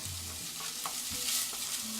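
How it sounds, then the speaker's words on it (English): Browned sausage added back into a hot frying pan for a manicotti topping, a steady close sizzle with a few soft stirring scrapes over two seconds, no talking. "What I'm actually going to do now is add the remainder of the sausage back into our pan here"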